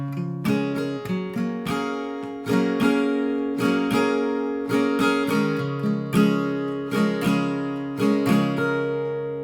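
A guitar plays the full riff of a song, a steady run of bright picked notes and ringing strums with sustained chords blending underneath, played solo without any voice.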